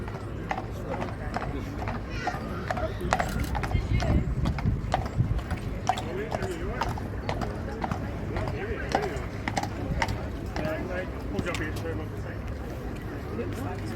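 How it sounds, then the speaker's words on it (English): A Welsh Section D horse's hooves clip-clop in a steady walking rhythm on a hard surface, close by, with faint rattling of harness or wheels and voices in the background at a London harness horse parade. "The horse is called She's the Duchess, a Welsh Section D"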